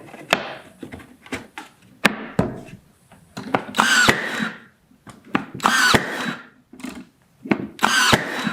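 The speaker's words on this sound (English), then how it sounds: "I'm going to put this block right there so that I could screw into it" A power drill drives screws into a wooden block for a pallet wood planer cart, with repeated loud whirring bursts separated by short pauses, close up and without talk.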